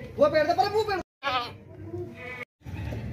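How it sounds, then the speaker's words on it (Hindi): A long-eared breeder goat bleats in several short bursts at close range, between stretches of someone talking. "लंबे कानों वाला नस्ली बकरा, क्वालिटी वाला बड़ा बकरा है"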